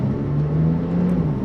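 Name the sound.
Porsche 911 992 Turbo S Cabriolet making a U-turn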